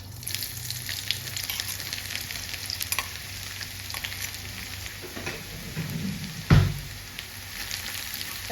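Six chopped garlic cloves fry in hot oil in a pan for a mushroom masala, a steady close sizzle throughout with a brief louder burst of spattering near the end.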